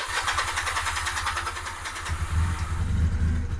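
A 2009 Honda Rebel 250 motorcycle is started with the choke on: a quick rhythmic cranking chug that catches into a low, rumbling idle, close and fairly loud, with no voices.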